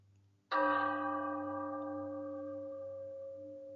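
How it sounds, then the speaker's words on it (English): A church bell strikes once with a sharp onset and then rings out slowly, its tone hanging and fading gradually over several seconds against a quiet low hum. "And this is what a bell tolling sounds like."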